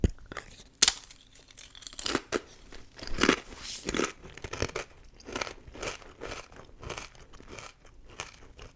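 Close, crisp crunching of crackers being chewed, with irregular crackly bites and faint crinkling, quiet and intimate.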